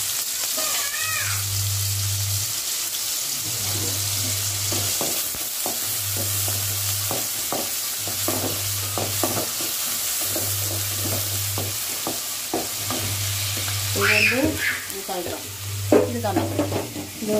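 Onions sizzle steadily while sautéing in a pan, with intermittent stirring scrapes over a pulsing low hum and a few faint squeaky sounds near the end.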